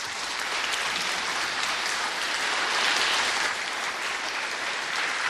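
A crowd at an 11 November Armistice commemoration applauds veterans, a dense, sustained clapping heard at a distance that holds steady for several seconds with no voices.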